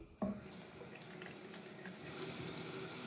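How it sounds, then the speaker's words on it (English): Water runs steadily from a tap into a water bottle, a continuous splashing rush that starts abruptly and keeps going without pause. "My water bottle's empty, so I just need to fill it."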